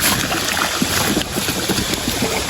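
Steady rushing water fills the scene, a continuous broadband roar like a nearby waterfall, with no pauses.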